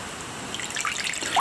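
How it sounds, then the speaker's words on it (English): Water runs from a tap into a cast iron skillet, a short close trickle and splash with rising gurgles. "I'll just fill it with water"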